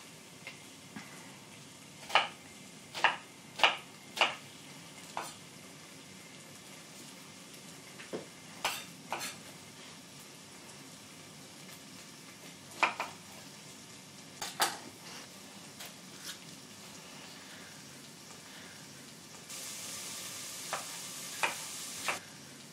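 Onions for a Cajun jambalaya cooking in a pan, a faint steady sizzle broken by sharp clicks and taps of a utensil stirring against the pan, with no talking.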